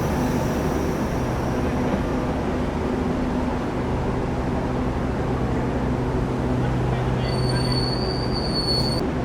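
Steady rumble and wheel-on-rail noise inside the Nusantara Explorer, a sleeper train converted from business-class carriages, running continuously with a thin high squeal rising near the end.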